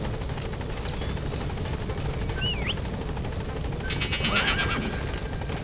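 D-Horse neighs once, clearly, over a steady helicopter drone in Metal Gear Solid V: The Phantom Pain, and hoof clip-clops sound faintly in the background.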